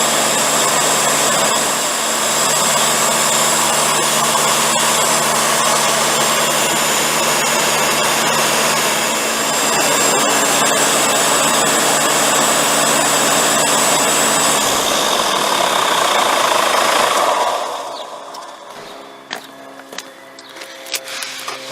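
A Kia car engine held at about 2,000 RPM during a turbo cleaning treatment, giving a loud, steady, close drone with a high whine for about seventeen seconds before it drops away, followed by faint clatter and no talk.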